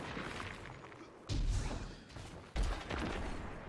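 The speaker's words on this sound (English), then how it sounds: "Why are you shooting at me for?" Gunfire in the video game Destiny 2 during Crucible PvP, with a few heavy shots thumping in bursts over a steady background of game noise.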